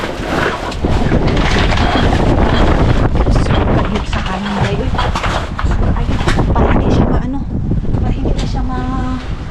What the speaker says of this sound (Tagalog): grabe ka kusog ang hangin